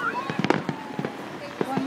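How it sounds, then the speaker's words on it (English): Fireworks crackle and pop at a July 4th display in a rapid scatter of sharp bangs and whistles over about two seconds, with people talking and reacting nearby. "That's pyrotechnics."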